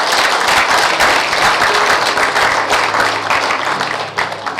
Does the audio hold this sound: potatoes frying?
no